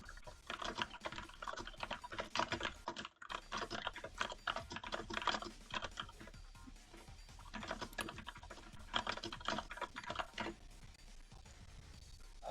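Rapid, continuous keystrokes clatter on a nearby computer keyboard, with a brief pause near the start and irregular bursts throughout. No voices are present.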